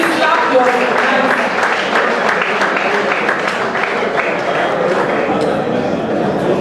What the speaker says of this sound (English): Please clap your hands.